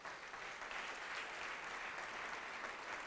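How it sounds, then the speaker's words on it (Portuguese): A church congregation claps together during a sermon, a faint but steady, even wash of applause with no gaps, heard from a distance. "Vamos aplaudir mais ao nome de Jesus."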